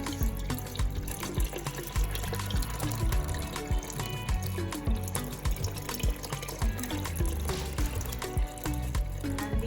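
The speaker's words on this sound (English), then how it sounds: "These are sea crabs. So I'm just gonna wash these." Sea crabs are rinsed under a running kitchen tap for a Jamaican-style seafood boil, with water splashing loudly and continuously and shell clatter mixed in.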